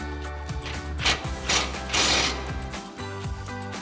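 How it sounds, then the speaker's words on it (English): Socket wrench and 15mm socket tightening bolts on a 2004-2020 Ford F-150 during a leveling kit install, a close, loud run of rapid ratchet clicks with short bursts of bolt turning and no talking. "Now we'll grab our 15mm socket and 18mm wrench,"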